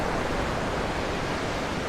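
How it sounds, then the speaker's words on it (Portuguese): Rough sea waves breaking at the shore make a continuous, loud, broadband roar of surf and wash, steady and close, with no voices present. "o mar está um pouco bravo hoje"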